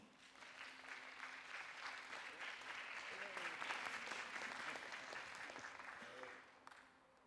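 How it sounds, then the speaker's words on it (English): Sustained audience applause for a contestant at the Miss World 2026 beauty pageant head-to-head challenge, a steady crowd clapping that holds for several seconds before fading out. "Please welcome your first contestant with a special round of applause"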